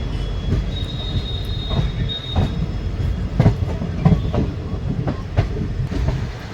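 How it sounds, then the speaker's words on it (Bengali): The Sahid Express (12348) rolling between Rampurhat and Howrah: a steady rumble of a moving train with rhythmic clickety-clack of wheels over rail joints and faint squeals, heard from on board, loud and continuous with no voices. "20 মিনিট দেরিতে ট্রেন ছেড়েছে।"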